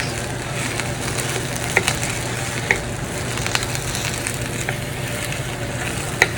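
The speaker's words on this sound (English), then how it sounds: "2 to 3 tablespoons of olive oil. And let's add the onion." Onions frying in a few tablespoons of olive oil in a pan, a steady close sizzle and crackle that runs the whole time with a few sharp pops, and no voices.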